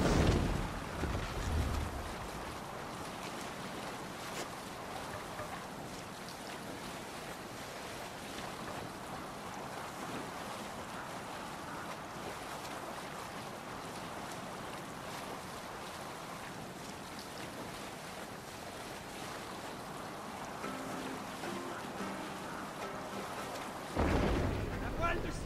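A Viking ship sails across the sea in Assassin's Creed Valhalla, with steady wind and waves washing past the hull throughout, louder splashes at the start and end.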